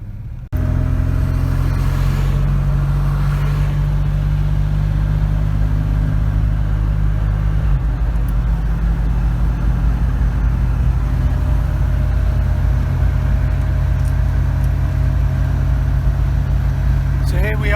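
A Volvo 122S wagon engine runs steadily throughout after a quick start, a loud low droning hum with a faint tonal whine, with a slight pitch shift partway through as the car drives off.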